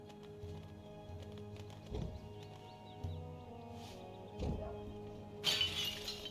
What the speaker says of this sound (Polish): Chyba jakieś okno pan stłukł zgoła.